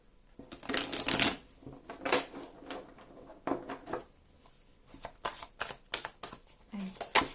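Oracle cards being shuffled by hand in quiet irregular bursts of papery riffling and flicking, close and soft, with brief pauses between handfuls.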